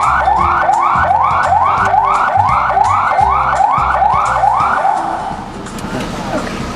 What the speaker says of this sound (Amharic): ሳይረን ነው